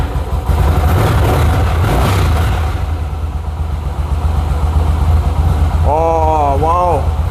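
A car engine idles low and rough after being in storage, a steady close rumble running throughout, with a voice speaking over it near the end.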